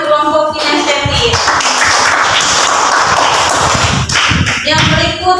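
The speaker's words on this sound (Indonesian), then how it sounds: "Oke, tepuk tangan untuk kelompok kinestetik." A classroom group applauds a student team, the kinesthetic group, after its presentation. Dense clapping with some thumps and voices mixed in rises from the start and carries on close and loud for a few seconds.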